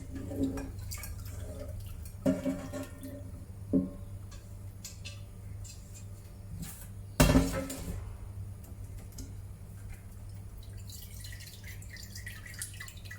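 Seitan dough made from flour is squeezed and washed by hand in a bowl of milky water. Quiet drips and small splashes come and go, with a sharper slosh partway through, and no voices.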